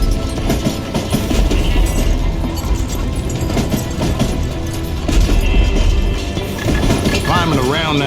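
Train in the Call of Juarez: Gunslinger video game, loud continuous rumble and clatter of rolling wagons with mechanical clanks, heavy and close throughout.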